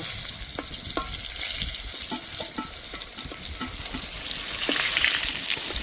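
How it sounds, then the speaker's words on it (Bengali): Pointed gourd pieces frying in oil with a little turmeric, giving a steady loud sizzle with intermittent spatula scrapes and stirring clinks, rising slightly toward the end. "তাই অল্প একটু হলুদ আমি লাস্টের দিকে দিয়ে দিচ্ছি। আর একটু ভেজে নেব।"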